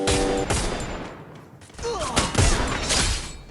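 Gunfire from a multiplayer shooter video game: dense bursts of rapid shots and volleys crackle across the whole clip, loud and close, with a short lull in the middle and voices talking over the action.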